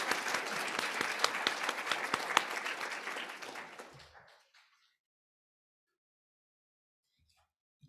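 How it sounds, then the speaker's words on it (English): A crowd applauds a speech pathology candidate at a spring hooding and pinning ceremony, with steady clapping that fades out after about four seconds, followed by near silence and a faint knock at the very end. "let's give Angelica a round of applause"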